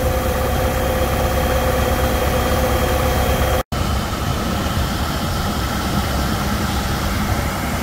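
A straight cut header with a 10-inch auger runs on a combine, giving a steady, loud mechanical drone and hum with a very brief dropout midway before the engine noise resumes unchanged.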